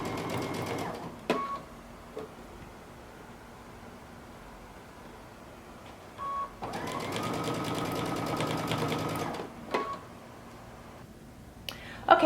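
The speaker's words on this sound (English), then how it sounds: "we're going to sew all the way around" Sewing machine stitching a hem around a mustard sweater, a steady mechanical whir in one long run of about three seconds plus a brief earlier burst, separated by quiet pauses and handling clicks.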